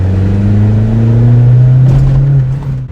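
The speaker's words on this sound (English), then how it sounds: "this is the stock exhaust and it sounds amazing." A 2012 Kia Forte Koup engine revs through its stock exhaust, holding a deep, loud exhaust drone at close range, pitch rising slightly before easing off near the end. No voices.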